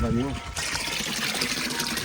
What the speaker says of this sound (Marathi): पाणी तर चांगला स्पीडमध्ये आहे